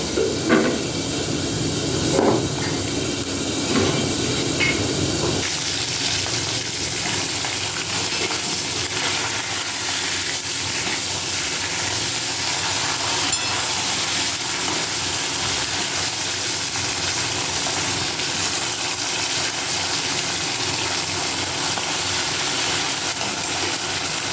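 Steady, close sizzling hiss of katla fish frying in hot oil, continuous throughout with a few faint clinks early on and no talking.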